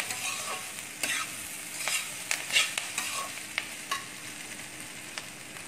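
A ginger, onion and beetroot curry is stirred in a pan, with sharp spoon knocks and scrapes against the metal over a faint low sizzle, quiet and without talk.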